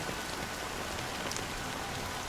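Steady rain falls on surfaces, a continuous dense hiss of droplets with scattered brighter patters, even and unbroken throughout.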